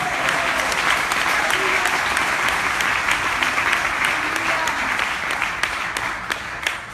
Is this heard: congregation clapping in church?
yes